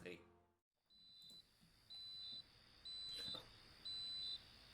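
Short high-pitched electronic beeps repeat at a steady pace of about one per second, thin and fairly faint over a soft background hiss.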